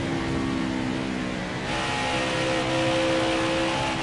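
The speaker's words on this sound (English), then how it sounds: "You hear how I'm kind of pulsing the throttle?" A race car engine droning close by during an ERA race at Dover, its pitch and volume rising and falling slightly as the throttle is pulsed.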